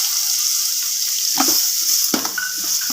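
Green chilli paste frying in a pan for chicken biryani, a steady close sizzle with a few soft stirring clinks and scrapes.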